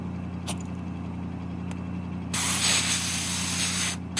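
Air hisses steadily out of an off-road vehicle tire being deflated down to 8 psi, a loud broadband rush that starts midway and runs for over a second over a low engine idle hum.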